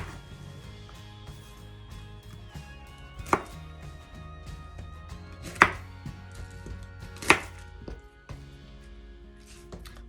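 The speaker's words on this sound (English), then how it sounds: "Now we want to cut up our Brussels" Several crisp knife chops on Brussels sprouts on a cutting board, three sharp strikes standing out over a low steady background hum, no talking.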